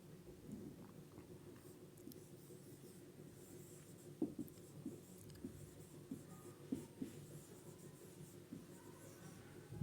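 Chalk or marker writing on a board during a Hindi-language Class 12 physics lecture on Ampere's circuital law, heard as faint, intermittent scratchy strokes over a steady low room hum, with no talking.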